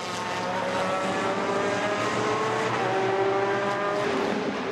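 Race cars at the Zolder circuit in a Supercar Challenge round, engines roaring loudly and continuously as one brakes late out of the slipstream and overtakes, pitch shifting as the cars pass close by.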